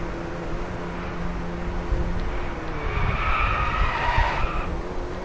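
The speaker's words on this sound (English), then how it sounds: "Nice drift." A car drifting in a PS4 racing video game, its tires skidding and squealing through a sustained slide over steady engine drone, loudest in the second half.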